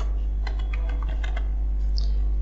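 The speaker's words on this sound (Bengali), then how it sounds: "নেম সংক্ষেপে লিখে দিচ্ছি ইফতেখার" Keys clatter on a computer keyboard as a short name is typed into an MS Access table. A quick run of close clicks stops after about a second, over a steady low electrical hum.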